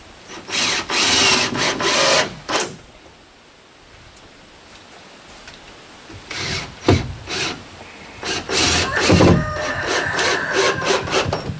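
Power drill driving screws into the wood of a tiny house loft, several short loud whirring bursts separated by pauses, close by and alone.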